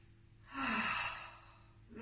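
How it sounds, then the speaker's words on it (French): A woman takes one deep, slow breath during a seated arm and shoulder stretch. The airy inhale swells, holds briefly and fades. It is close and soft, with a quiet room around it. "On va prendre quelques inspirations comme ça."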